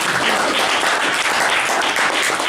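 Dense, sustained applause from a large audience at a motivational talk, loud and even throughout with no speech above it.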